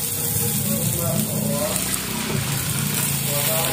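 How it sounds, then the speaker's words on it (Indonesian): Water pouring into a pan of sweet and sour gourami makes a continuous loud rushing gush that holds steady throughout, with a faint voice mixed in beneath. "Mau dikasih air dulu sekarang."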